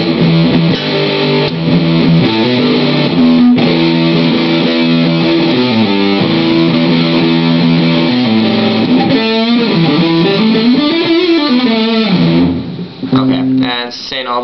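Electric guitar played through a Big Muff Pi distortion pedal with sustain at maximum, giving loud, thick fuzzy chords and sustained notes that bend and ring continuously, with a brief choppy flurry near the end.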